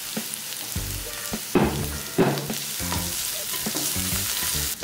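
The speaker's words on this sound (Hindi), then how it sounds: "जैसे ही कैरेट थोड़ा कुक होता है उसके बाद डाल देते हैं ये स्प्रिंग अनियन के व्हाइट पार्ट।" Carrot and spring onion whites stir-frying in a pan for veg Hakka noodles, a steady sizzle broken by several louder bursts of tossing and scraping, close by with no talk.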